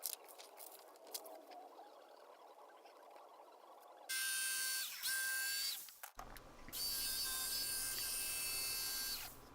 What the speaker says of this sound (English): So now I'm just cutting out my image using just a jigsaw.